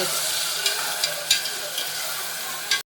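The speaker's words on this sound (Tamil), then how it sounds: "அரைச்சி வச்சிருக்க தக்காளி போட்டு நல்லா வதக்கணும்" Ground tomatoes sizzle in a hot pan for mutton curry, a steady close frying hiss broken by a few stirring scrapes and clicks.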